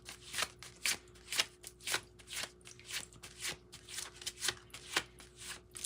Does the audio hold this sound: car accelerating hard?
no